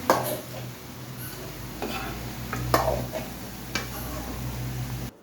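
French fries lifted out of a frying pan of hot oil with a metal utensil, with a low steady sizzle beneath a few sharp clinks and scrapes against the pan, close by.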